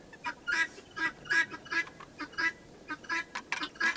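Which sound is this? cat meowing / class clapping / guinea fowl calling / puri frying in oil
guinea fowl calling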